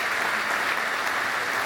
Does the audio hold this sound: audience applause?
yes